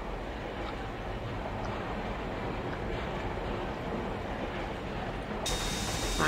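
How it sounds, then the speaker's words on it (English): A train rolling past a beach in a train video game, heard as a continuous loud rumbling roar with a steady hiss that holds evenly throughout. "People at the beach watching this train go by"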